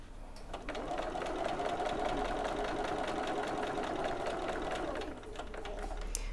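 Close up, a sewing machine hums and clatters continuously as it stitches piping onto fabric bag panels, with one brief slowdown near the end before it picks up again.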